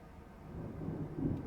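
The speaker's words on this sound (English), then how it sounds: "Big black cumulonimbus clouds are in the sky, and that sound. Thunder snow is coming." Thunder snow rumbling in the Deadly Premonition 2 video game, a low, soft, distant roll of thunder swelling gradually and peaking near the end, with no talk.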